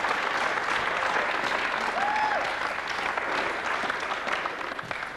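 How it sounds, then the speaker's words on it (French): Studio audience of a 1993 French television show applauding steadily, a dense, even wash of clapping that holds for about five seconds with no pause. "On applaudit Thomas!"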